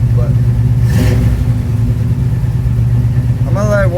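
A cold Chevrolet Nova engine idles a little high with a steady, loud low rumble. Someone speaks briefly over it near the end.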